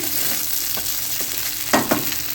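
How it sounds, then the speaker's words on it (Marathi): Pieces of dhokla made from leftover rice sizzle steadily as they sauté in a pan, with a constant close frying hiss broken by a few light scrapes and stirs, and no voices. "थोड्या वेळ परतू देते"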